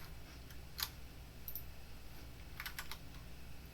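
Typing on a computer keyboard while entering a container ID: several scattered clicks and short bursts of keystrokes, fairly faint over a low steady hum, with no voices.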